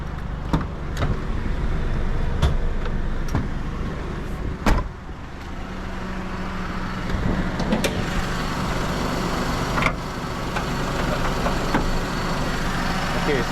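A 2004 Perodua Kenari 1.0 EZ automatic idling with a steady low engine hum, punctuated by several sharp clicks and knocks, with a voice talking intermittently nearby.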